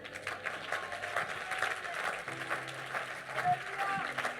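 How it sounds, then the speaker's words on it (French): A church congregation at a sermon applauds and cheers in a dense, moderately distant patter of clapping, with voices mixed in throughout. "Quelqu'un acclame Dieu."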